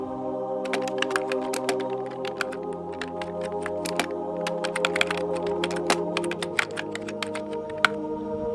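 Steady typing on a computer keyboard while a prompt is entered, quick irregular key clicks heard up close over a constant low background hum, with no talking.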